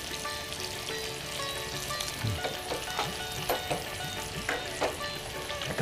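Grated coconut frying in a pan for chholar dal, a steady close sizzle with crackling pops and the occasional scrape of stirring, no talking.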